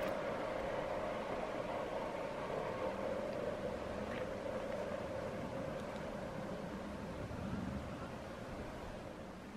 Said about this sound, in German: Das war Widmer Rail Services mit der 185-535-2, der hier als Solo-Lok LZ den Berg runterrollt.